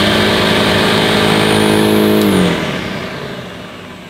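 A vintage 1970s Electrolux 504 vacuum cleaner motor runs loud and close with a steady whirring drone, then spins down toward the end as the pitch drops, with no voices.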